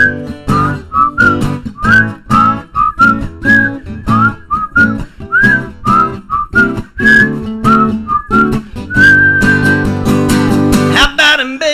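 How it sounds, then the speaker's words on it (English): A person whistles a lilting song melody over a steady backing track with rhythmic beats, the tune clear and upfront for most of the passage before the music swells at the end. "We used to do the whistle."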